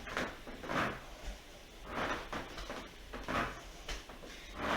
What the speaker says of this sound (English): To listen to my squeaky floor going. Century home, so the floor always makes lots of noise.